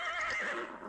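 A horse in a video game gives a short, loud whinny with a wavering, descending pitch, heard alone.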